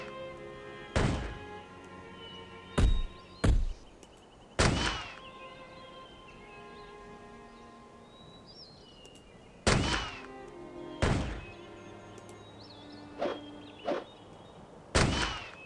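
Game gunshots fired at spiders in Arcanum, a series of sharp single bangs spaced irregularly over ambient game music, about ten shots with short decays, no talk.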